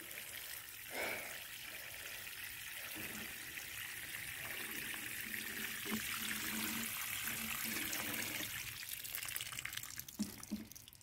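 Water pours steadily while a garden and its flowers are watered, making a continuous soft rushing and trickling wash. It is faint, with a few small knocks and splashes scattered through it.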